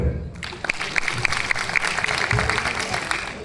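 Audience applause greeting a performer introduced on stage, brisk clapping with distinct sharp claps, steady through the short stretch and mixed with crowd murmur.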